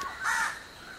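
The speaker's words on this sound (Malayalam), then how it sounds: "അപ്പോൾ ഈ കാക്കേൻ്റെ ഒക്കെ സൗണ്ട്" A single crow caws among trees outside, one clear mid-distance call standing alone against quiet background.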